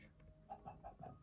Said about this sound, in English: What's that chicken doing?